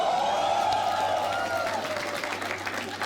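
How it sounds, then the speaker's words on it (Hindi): An audience claps steadily throughout a live comedy reaction show, with a voice talking over the applause and a low hum underneath. "एक बार कैशिफाई के लिए तालियां दो।"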